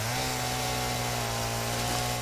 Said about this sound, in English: I'm just gonna get that leaf and continue with my chainsaw